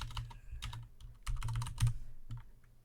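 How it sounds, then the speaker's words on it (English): Quick bursts of typing on a computer keyboard while entering a web address into the Firefox browser, close and clear clatter of keys in uneven clusters with brief pauses between them. "type the HTTPS"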